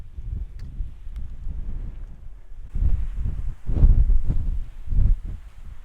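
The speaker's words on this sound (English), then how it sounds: "if it wasn't so windy up here" Steady low wind roar on a mountain summit in the White Mountains, New Hampshire, buffets the microphone, rising into stronger gusts partway through, with no voices present.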